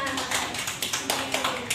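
Students in a classroom clap for a classmate in a quick, fairly even series of sharp claps, with voices mixed in.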